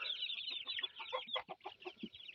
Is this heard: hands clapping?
no